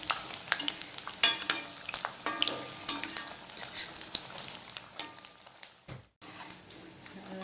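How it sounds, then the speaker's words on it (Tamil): Chicken samosas deep-frying in coconut oil, a dense, crackling sizzle running steadily with sharp pops and light utensil taps, close and fairly soft, broken by a brief drop near the end. "நல்லா ஃப்ரை ஆகிடுச்சு."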